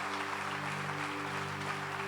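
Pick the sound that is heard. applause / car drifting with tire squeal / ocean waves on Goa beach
applause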